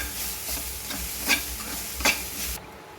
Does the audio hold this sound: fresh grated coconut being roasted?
yes